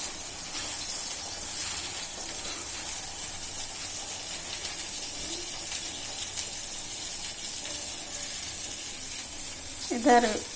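Shavige uppittu, vermicelli upma, bubbling and steaming in a pan, a constant hissing simmer heard close up with a brief clatter at the end, no voices.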